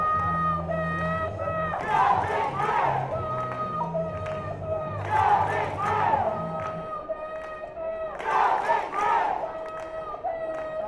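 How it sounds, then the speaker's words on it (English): Sinton cheerleaders at a high school baseball regional semifinal chant in three bursts of rhythmic shouting to rouse the crowd, heard at a distance under a commentator's steady voice. "Sinton cheerleaders up again, encouraging their crowd"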